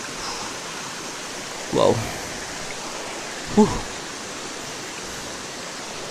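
A creek flowing through a flood-prone rural crossing gives a steady, even broadband rush throughout, with two brief spoken exclamations standing out over the water.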